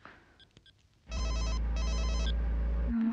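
A telephone rings close by, a loud electronic two-burst ring pattern with a brief gap, following quieter handling clicks and rustle.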